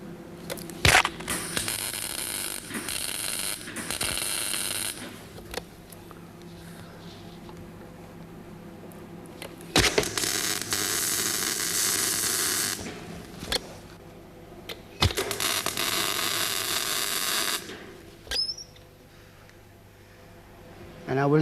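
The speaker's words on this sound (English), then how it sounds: "I am now going to tack weld it where the plate is already touching down." Tack welding a steel patch plate onto car bodywork: several loud, crackling buzzes of a few seconds each, separated by quieter gaps, close up, with someone speaking in between.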